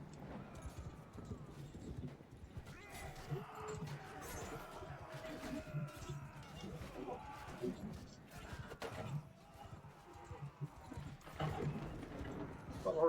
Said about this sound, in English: The horses get in there